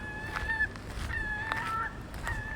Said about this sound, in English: Shut up, seagulls.